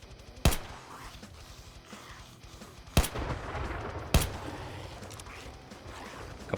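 Three sharp pistol shots ring out in the Escape from Tarkov mod of 7 Days to Die, spaced irregularly over a low ambient game hum, each a loud isolated crack.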